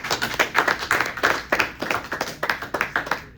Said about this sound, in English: Y'all clap it out.